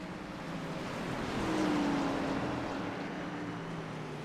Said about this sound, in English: As cars head down the front stretch here from Martinsville Speedway